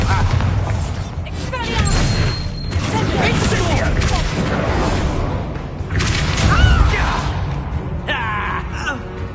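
Bombarda spell explosions in the Hogwarts Legacy video game, heavy booms and crashing impacts recurring through a busy battle mix, layered with shouted voices, whooshes and sparkling magical effects.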